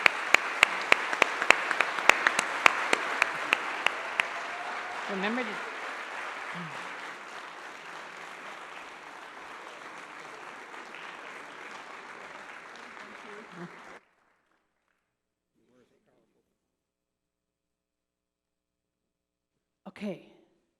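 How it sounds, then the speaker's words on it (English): An awards ceremony audience claps loudly for several seconds, fading to steady applause, then silence and a brief burst of talk at the end. "Give them a round of applause."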